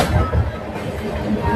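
Vikrama Simhapuri Amaravathi Super Fast Express rumbles along at dawn, heard from inside a general coach as a loud, continuous low roar of wheels and carriage rattle.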